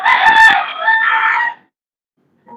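A rooster crows once, loud and close, for about a second and a half, picked up by a microphone during a formal procurement meeting and followed by near silence.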